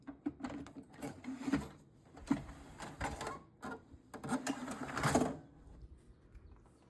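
A Montgomery Ward CED video disc player starts up with a series of mechanical whirs and clunks, several short motorized bursts in an uneven rhythm, building to a louder grinding burst before settling, heard close and alone.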